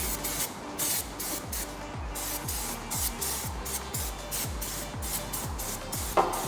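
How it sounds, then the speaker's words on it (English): Paint remover sprayed in a steady hissing stream over the engine bay of a JDM Honda Integra DC2, with a rhythmic pumping pulse underneath, close and continuous. "now we're going to go and spray it with the paint remover."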